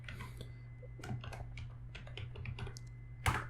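Text being typed on a computer keyboard while working in Microsoft Excel, a steady run of soft key clicks up close with one louder tap near the end, no voice over it.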